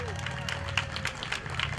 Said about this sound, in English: Give them a round of applause, the Columbus Saints